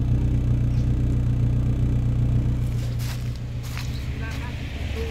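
A used three-row family car's engine idles with a steady low rumble, loud and continuous, easing slightly after a few seconds as faint clicks and a soft tone appear, with people talking in the background.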